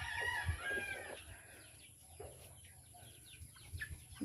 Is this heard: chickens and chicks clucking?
yes